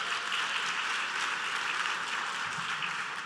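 A room of business finance forum attendees clapping, a steady broadband patter held for the whole stretch at moderate level, sounding somewhat distant and thin rather than a full ovation.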